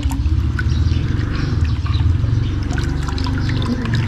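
Water is tipped out of a cooking pot in a steady, close splashing pour that trickles and gurgles continuously for several seconds, with no speech.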